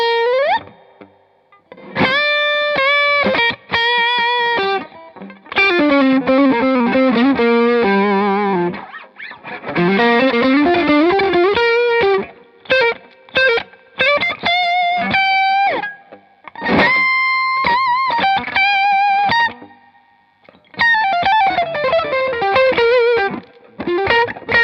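A Fender Stratocaster played through a Boss SD1 overdrive and a mini Spark Boost pedal into a Hampstead amp, with reverb left ringing, improvises loud, distorted melodic phrases that trail off into brief pauses between runs.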